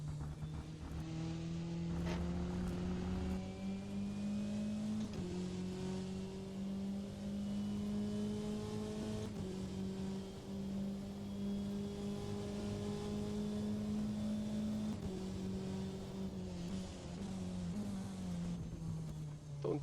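A Puma race car engine in the rFactor 2 racing game drones loudly and steadily, its pitch climbing through each gear and dropping at the shifts. The same pattern repeats over and over with no talking.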